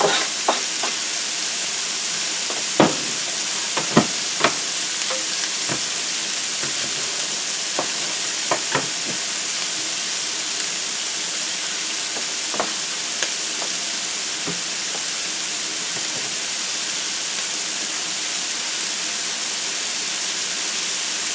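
Zucchini frying in a pan makes a continuous loud sizzle and crackle, with scattered sharp pops and spatters throughout and no talking.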